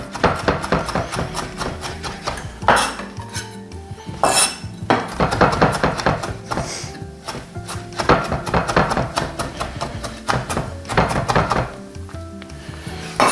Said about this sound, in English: from here you can just give it a sort of rough chop